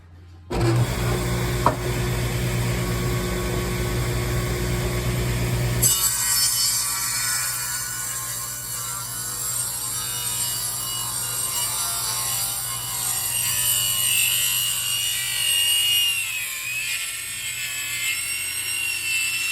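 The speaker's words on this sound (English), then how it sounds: "I'm gonna kick the saw over on 45 degrees." A saw set to a 45-degree miter cuts wooden boards for a table. The motor spins up loudly, then changes tone as the blade bites into the wood, and a sustained rough whine carries on through the cut.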